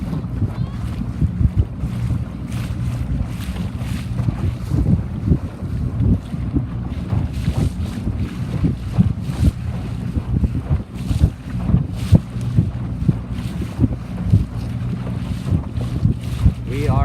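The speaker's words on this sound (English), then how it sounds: "It just seems like tons of wind right here." Strong wind buffets the microphone during a C420 sailboat regatta, with continuous gusty roar, water splashing and hull noise, loud and close throughout.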